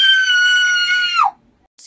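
A woman's loud, sustained scream, used as a sound effect in an audiobook narration, holds steady for over a second and then cuts off sharply. Near silence follows.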